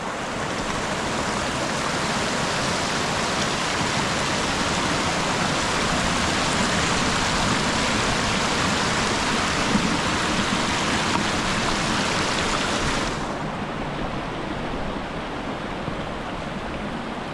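A river in Walls of Jerusalem National Park, Tasmania, rushes over rocks at a crossing, making a loud, dense, continuous roar of flowing water that abruptly becomes duller near the end.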